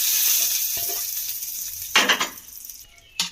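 Hot tempering spices poured into a bowl of red chutney, a burst of sharp sizzling that hisses briefly, then a second short sizzle after a faint steady hiss, close and with no talk.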